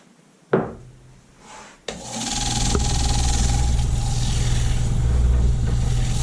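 A couple of knocks, then a lathe motor starts and a steady rubbing, rasping sound of a turned wooden nutcracker bowl being polished continues over a constant hum.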